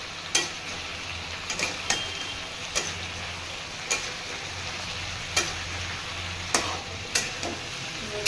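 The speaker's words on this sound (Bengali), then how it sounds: "এবারে আমি ভালো করে মশলাগুলো দিয়ে কষিয়ে নিচ্ছি।" Spices sizzle in oil in a pan for a paneer-style chhanar dalna, a steady frying hiss marked by repeated sharp ladle taps and scrapes at uneven intervals.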